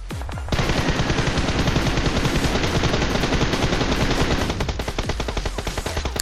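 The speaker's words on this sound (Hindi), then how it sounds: "इस बंदे ने मेरे पे स्नाइपर का शॉट लिया" Loud, sustained automatic gunfire erupts after a short lead-in and rattles on for several seconds with dense rapid bursts, during a BGMI battle royale match where a sniper shot is taken.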